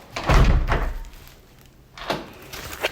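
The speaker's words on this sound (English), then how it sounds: "this is my door real quick" A door is handled and closed indoors: a heavy thunk, then a few softer knocks and a rattle of the door moving, fairly close and loud in a quiet room.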